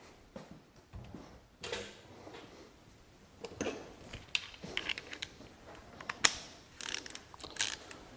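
Ratchet tightening bolts on an idle air control valve at the intake of a Ford Escape 3.0L, with bursts of close, clicking pawl sounds and short pauses between strokes, no talk.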